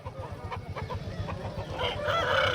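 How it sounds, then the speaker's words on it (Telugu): Several native country chickens cluck close by at a Sunday hen market, with a rooster-like call rising among them over a constant low rumble. "ఇక్కడ పక్కనే కొద్దిగా అన్నగారు కోళ్ళని పట్టుకున్నాను అనమాట నాటి కోళ్ళు"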